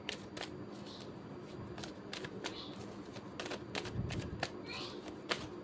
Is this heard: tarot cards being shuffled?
yes